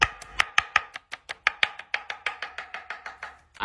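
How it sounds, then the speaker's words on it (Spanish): Knife chopping an onion into small dice on a board, a steady run of about twenty sharp, evenly spaced cuts, close and clear with nothing else heard. "Picamos en figuras cuadriculíneas"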